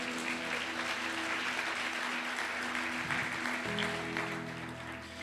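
Congregation at a church service applauding steadily throughout, a dense, continuous clapping wash that stays loud and then tapers slightly near the end.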